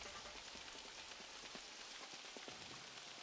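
Steady video game rain in Super Mario Odyssey patters on a surface, a dense, even hiss with scattered individual drops, continuous throughout and with no voices.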